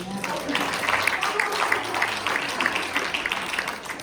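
A church congregation claps for Tamara during a Sunday service, a brief burst of scattered clapping with voices mixed in underneath.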